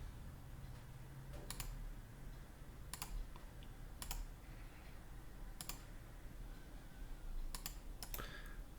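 Computer mouse clicking in 3D modeling software, sharp isolated clicks spaced a second or two apart, with a quick double click near the end, close and fairly faint with no talking.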